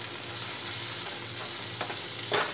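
Ground spices (chili, cumin and coriander powder) sautéing for Bengali chicken kosha, a steady soft sizzle with faint stirring scrapes and a brighter scrape near the end, no talking.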